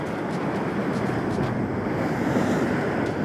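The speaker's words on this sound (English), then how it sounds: "These waves are so powerful." Powerful ocean waves surge and break against a jetty in a constant roaring wash, with wind rumbling across the microphone and no talk.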